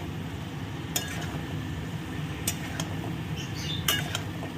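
Vegetable stalks stir-fried in a pan for a summer recipe, with steady frying hiss and occasional sharp clinks of a utensil against the pan, close and without speech.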